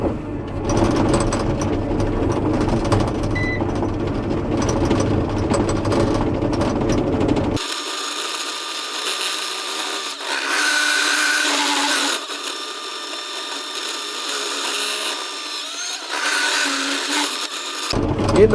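A bulldozer engine runs steadily with a whirring, grinding mechanical drone while grading a large house pad. It is loud and continuous, and its deep rumble drops away partway through, leaving a thinner, higher machine whine.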